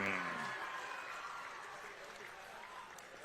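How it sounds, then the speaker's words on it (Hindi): Applause from an audience at a state award ceremony honoring Asian Games medal winners, a steady distant patter of many hands filling the room, softening gradually, with a voice heard briefly at the start. "आप तालियां बराबर बजाते रहिएगा"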